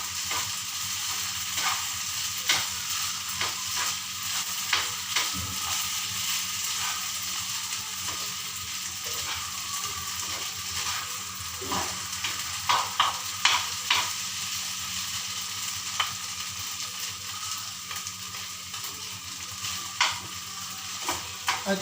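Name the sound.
food frying in a pan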